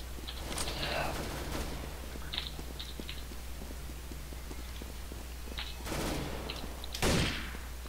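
Gunfire in the video game Counter-Strike: Global Offensive, with scattered shots and a couple of louder bursts over a steady background hum, mixed with faint speech.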